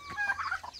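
Chickens kept on a farm give a few quiet, brief clucks, faint and alone for under a second.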